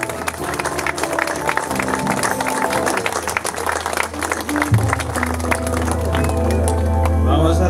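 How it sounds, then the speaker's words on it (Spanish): A religious congregation at an anniversary celebration of a brotherhood devoted to the Señor de las Maravillas in Huaura claps amid a busy mix of crowd noise and low sustained tones, the clapping moderately loud and mixed with voices. "Tributamos fuertes palmas a nuestro Señor de las Maravillas."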